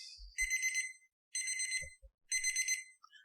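A loud electronic alarm buzzer from a DreamSky alarm clock radio at maximum volume sounds in three pulsing bursts separated by short gaps, with faint handling noises between them.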